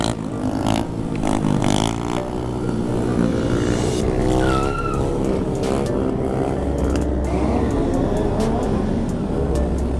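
Tires squealing during a motorcycle burnout at a mini Hornet stunt gathering, a loud sustained screech over a revving engine, with crowd noise and scattered sharp clicks in the background.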